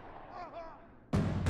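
A single loud gunshot in the video game The Last of Us, bursting in abruptly near the end after a quiet tonal stretch, followed by a brief second blast.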